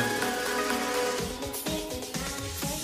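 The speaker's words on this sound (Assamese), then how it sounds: "বৰষুণ দি আছে" Steady broadband patter of rain fills the clip, with a few louder knocks and drips standing out against the continuous wash.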